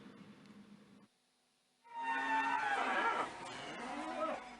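At the Prambanan livestock market in Klaten, a cow gives one long, loud, close moo after a quiet gap, over a faint background murmur of the market.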